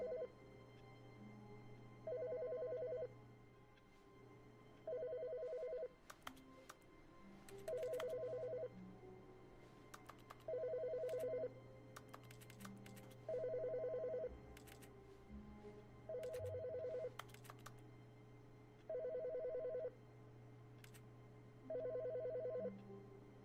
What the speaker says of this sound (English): That is a phone in this area, isn't it?